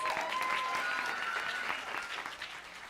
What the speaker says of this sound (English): Round of applause for yourselves